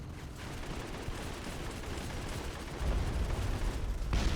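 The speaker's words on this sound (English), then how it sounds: "I was trying to figure out where that gunfire was coming from." Gunfire in the mobile shooter Modern Combat 5 on iOS rattles in dense, continuous bursts, with a heavier thump of shots building toward the end and no voices.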